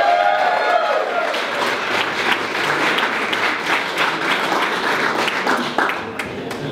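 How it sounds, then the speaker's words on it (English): An audience at a cycling team presentation and fundraiser in Toronto breaks into loud, sustained applause for a racer, dense crowd clapping with faint cheering that tapers off near the end. "let's give a huge round of applause for Cam Jetty"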